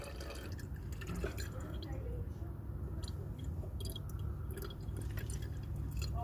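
Brake fluid drains from an opened front-right bleeder on an Audi A8 during an Eezibleed brake bleed, a steady low trickle and drip under continuous background noise.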